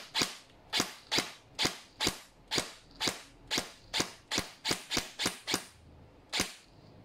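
A G&G Armament Cobalt Kinetics BAMF Recon airsoft electric gun fires on semi-auto: about fourteen sharp, close, loud cracks in a fairly steady rhythm with a short pause before the last shot, and no talking.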